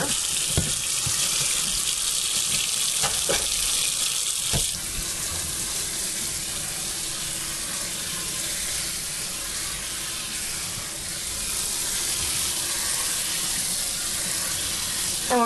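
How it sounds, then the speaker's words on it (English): Cold tap water runs steadily into a sink over cooked barley grain being rinsed of starch, a continuous close hiss with a few soft clinks early on. "So what we're going to do is we're going to rinse it with cold water."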